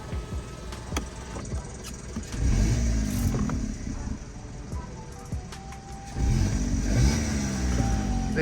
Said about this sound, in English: Yeah, the car starts.